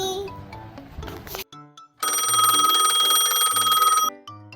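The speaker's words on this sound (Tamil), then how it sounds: "ஃபோன் ரிங் ஆகுது." A telephone rings loudly and steadily for about two seconds, a bright electronic tone that cuts in after some soft musical sounds and stops abruptly.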